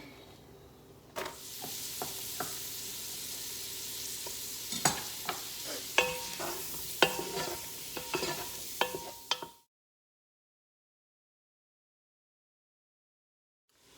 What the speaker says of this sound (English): Just gonna toss in the onion.